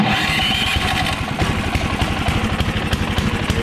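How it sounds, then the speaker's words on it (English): A beginner's snowblower with electric start, primed three times and choked, runs loudly and close by with a rough, rapid chugging that settles into a steady throb. "Then we're gonna prime it 1, 2, 3 times and push the start button."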